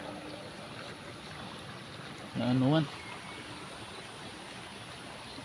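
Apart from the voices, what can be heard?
rushing floodwater flowing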